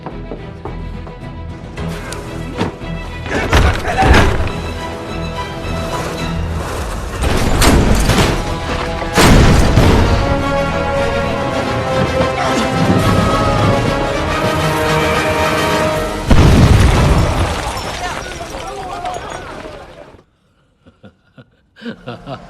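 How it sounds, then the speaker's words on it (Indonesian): Bomb explosions in a gangster action film, several loud deep booms and blasts bursting out over a dense score, followed by near silence. "agar bom tersebut meledak"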